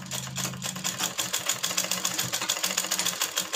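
A sewing machine stitching pieces of a hanky-cut baby frock, a close rapid mechanical chatter that starts with a brief hum and then runs in quick, even bursts, with no talking.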